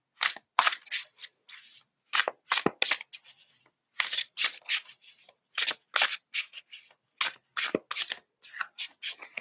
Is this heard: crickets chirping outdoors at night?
no